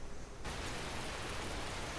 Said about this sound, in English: It starts drizzling just as we're done.